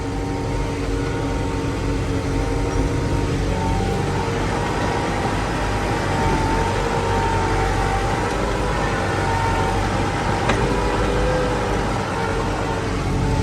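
A TD 95 tractor with its engine running in third gear, a steady low droning rumble and mechanical hum holding an even level throughout, no talk heard.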